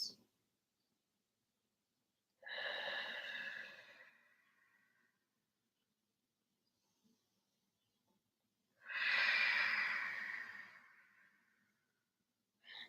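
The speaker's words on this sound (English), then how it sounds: "we breathe into the chest, we breathe into the pelvis for 5 deep breaths" Two slow, deep breaths during yin yoga, each a long soft airy exhale at close range, separated by near silence.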